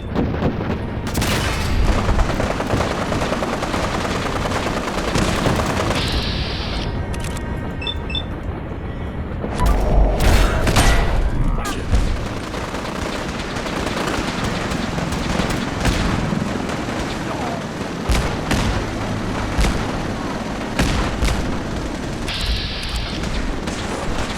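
Sustained game combat against synths, with booming shots and bursts of gunfire layered over a dense, continuous battle din, several louder impacts standing out, no speech.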